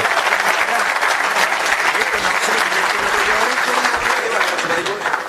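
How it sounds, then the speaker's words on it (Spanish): Dense audience applause at a talk or presentation, steady and loud throughout, a full room clapping together without letup before tapering slightly at the end. "Nuevamente el aplauso"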